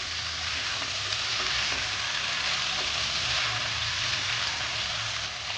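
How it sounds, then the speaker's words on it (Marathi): Potato slices go into a hot pan and are stirred, producing a dense, even sizzle that holds steady throughout, close and fairly loud. "आता बटाट्याच्या पोळी टाकू ते मिक्स करून घेऊ"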